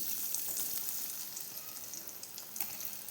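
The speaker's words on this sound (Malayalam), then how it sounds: "അപ്പോൾ ഇതാ വെളിച്ചെണ്ണ കാഞ്ഞിട്ടുണ്ട്, കുറേശ്ശെ ഇട്ട് കൊടുക്കട്ടെ ഫ്രൈ ചെയ്യാൻ." Elephant foot yam pieces frying in hot coconut oil, giving a steady, dense sizzle with faint crackles throughout, fairly close and with no voices.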